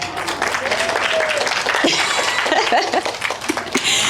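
Audience at an outdoor rose festival garden talk applauding, continuous scattered clapping with crowd murmur and a dog barking faintly in the background.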